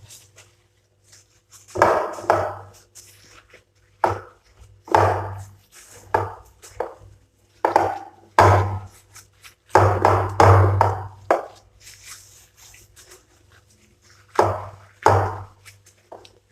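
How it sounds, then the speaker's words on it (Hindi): Mashed potato dough mixed with flour (maida) is kneaded by hand, giving close, rhythmic bursts of soft pressing and slapping, each a second or so long, separated by short quiet gaps. "जिस तरह आटे को गूंदा जाता है इसी तरह इसे भी गूंदेंगे"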